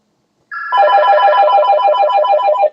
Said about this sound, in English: I'm going to ignore the phone so I can finish this.